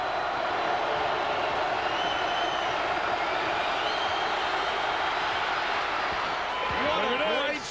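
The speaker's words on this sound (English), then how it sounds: "the crowd is going to make as much noise as it can" Basketball arena crowd at a Duke versus North Carolina game, a steady loud roar of cheering and noise filling the whole stretch, with a commentator's voice faintly under it.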